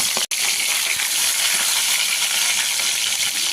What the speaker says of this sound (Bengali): তেলটা গরম হয়ে গেছে, এবার হালকা করে মাছগুলো ভেজে নেব।